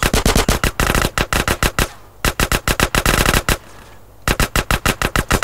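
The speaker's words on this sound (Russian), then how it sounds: "Кого они там еще стреляют?" Rapid automatic gunfire in GTA San Andreas rattles out in three loud close bursts of evenly spaced shots, separated by brief quiet gaps.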